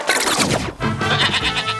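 A goat bleats loudly and close by, two wavering, nasal cries in quick succession filling the short moment on their own.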